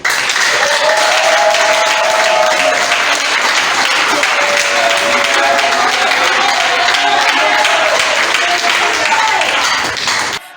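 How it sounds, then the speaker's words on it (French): At a festive ceremony, a large crowd applauds loudly and continuously, with cheering and shouting voices mixed into the dense clapping throughout. "Sous vos acclamations."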